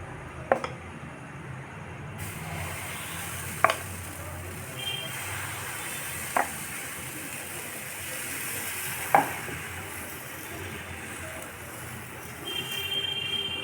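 A vegetarian omelette fries in a lightly oiled nonstick pan, a steady low sizzle running throughout, broken by a few sharp isolated clicks or taps from a utensil against the pan.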